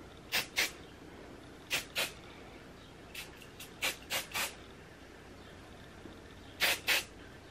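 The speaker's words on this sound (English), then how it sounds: "So just take a little bit of spray." A hair spray can gives several short hissing spritzes, mostly in quick pairs with gaps between, near and fairly crisp against a quiet room.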